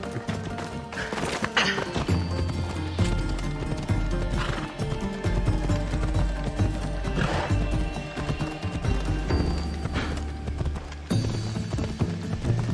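Horse hooves clip-clop steadily in the video game Assassin's Creed Odyssey, with loud whinnies and dense game sound throughout.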